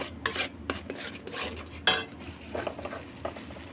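Semolina is stirred in a bowl with a spoon, giving close rhythmic scraping and clinking strokes with a dry gritty texture and one sharper knock partway through.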